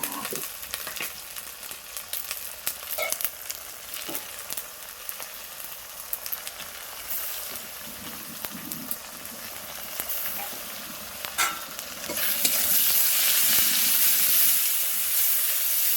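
Ginger garlic paste fries with onions in a pan for chicken kosha, a steady close sizzle with scattered stirring scrapes that swells into a louder hiss near the end.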